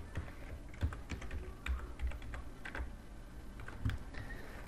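Quiet typing on a computer keyboard while entering a wallet address, a run of light, irregular key clicks with a few louder taps, close and alone without speech.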